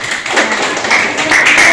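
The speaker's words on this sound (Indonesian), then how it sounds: "Tepuk tangan untuk Fernando." Classmates clap for a student in an Indonesian biology lesson on fungi, a short burst of scattered hand claps filling the room at close range with no talk over it.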